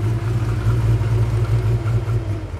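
An engine fitted with a Lucas fuel injector idles off choke after an injector adjustment, giving a close, steady low rumble with slight pulsing as the idle settles lower.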